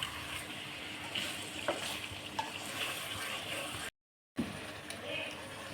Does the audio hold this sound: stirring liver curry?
yes